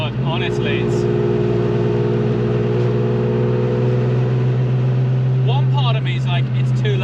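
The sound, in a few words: Ferrari F50 straight-pipe V12 engine revving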